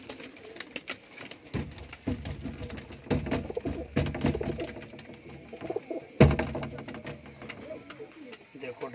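Pigeons coo repeatedly at close range in a pigeon keeper's loft in Amritsar, Punjab, with soft rhythmic calls, wing flutters and a sharp knock, while someone talks over them.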